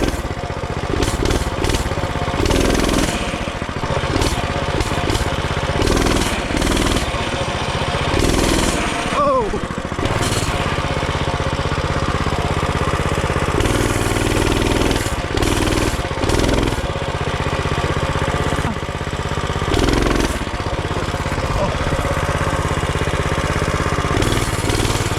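Coleman B200R mini bike engine running hard during a ride, a loud, continuous buzzing small-engine drone with revving surges and throttle changes, close up with wind noise throughout.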